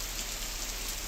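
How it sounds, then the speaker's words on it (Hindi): Steady rain falls during an outdoor news report in Bilaspur, a soft, even hiss of drops hitting surfaces, fairly faint and continuous with no voices. "किस तरीके से सुबह से यहाँ पर बारिश का जो दौर है वो शुरू हो गया है"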